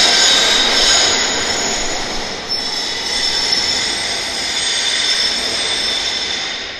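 A tram rolls along its rails at Pyrmont Bay, a continuous loud roar with high metallic wheel squeal sustained throughout, swelling and easing slightly as it passes close by.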